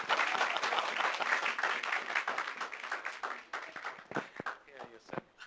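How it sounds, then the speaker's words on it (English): An audience applauds the High Commissioner of Trinidad and Tobago at an Indian diaspora outreach program, with full crowd clapping at the start thinning into scattered claps as a voice begins talking over it. "Applause."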